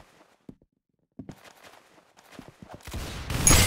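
Gunfire in a video game: a few sharp isolated shots early on, then a denser burst of shooting building to a loud, crackling barrage at the end.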